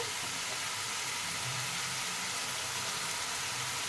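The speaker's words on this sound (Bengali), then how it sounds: "পেঁয়াজটা ভালো করে ভেজে নেব।" Onions frying in a pan give a steady, close hiss and sizzle that runs continuously without pause or voices.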